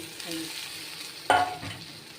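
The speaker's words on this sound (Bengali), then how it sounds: "পেঁয়াজ ভাজা হয়ে গেছে এবার আমি ভেন্ডিগুলো মিশিয়ে মিশিয়ে দেব" Okra is stirred into onions frying in a pan, a soft sizzle broken by one sharp scrape and clatter of the spoon midway, then a lighter scrape after it.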